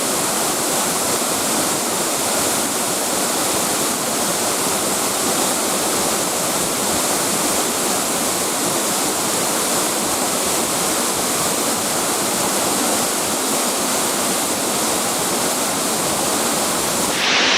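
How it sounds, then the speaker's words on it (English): Ramsey Cascades waterfall in the Great Smoky Mountains, a loud, continuous broadband roar of rushing, falling water heard up close, steady and unbroken with no voices. "Really cool waterfall, huh?"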